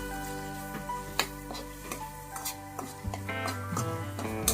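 Ground spice and green masala frying in oil in a pan for egg rice made from leftover rice, with soft sizzling and repeated spoon scrapes and taps, fairly quiet and steady, without talk.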